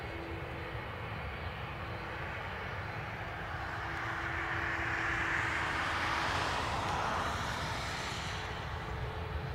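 Airliner engine roar at Dublin Airport, a Lufthansa A320neo, rising into a broad, steady rumble that swells louder midway and then eases slightly, with no talking over it.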